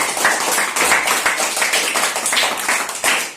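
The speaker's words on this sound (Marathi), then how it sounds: "तिच्यासाठी जोरात टाळ्या वाजायच्या सगळ्यांनी" A group in a school classroom claps loudly together. The dense, steady applause continues for a few seconds with no talking.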